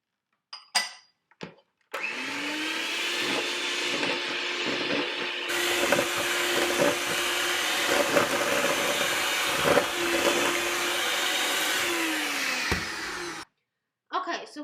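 An electric mixer whirs steadily through gluten-free whoopie pie batter, starting abruptly and running with a loud continuous motor drone for about eleven seconds before cutting off, with brief talking before and after.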